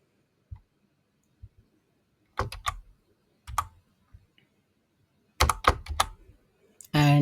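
JavaScript code is typed on a computer keyboard in short, close clusters of keystrokes separated by stretches of near silence in a quiet room.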